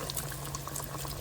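Breaded mozzarella sticks drop into a small pan of hot oil that already holds stray breadcrumbs, and it hisses and bubbles at a loud, steady level up close.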